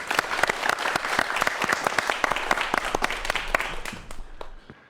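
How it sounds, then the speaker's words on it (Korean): An audience at a virtual reality talk applauding as a speaker is welcomed, dense clapping from many hands that stays even and then fades toward the end. "박수로 환영해 주시죠"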